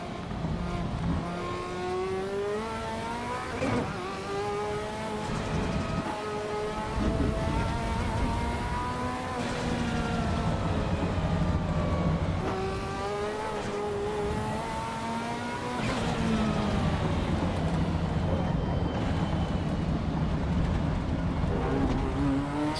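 A Lancia Delta turbo in Assetto Corsa Evo revs loud and continuous, its engine pitch climbing and falling through repeated gear changes without a break, alone with no talking.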